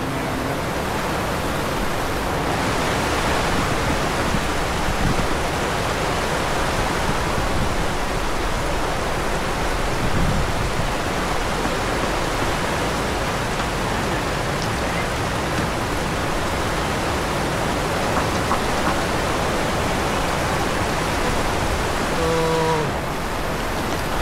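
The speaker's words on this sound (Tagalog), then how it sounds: "Kaya lang umuulan siya." Steady, dense rain falls in Bali, a continuous hiss that holds the same level from start to finish, with no voices over it.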